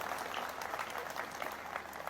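Faint applause from a small audience at a charity dinner, a few people clapping steadily for a couple of seconds, distant and thin.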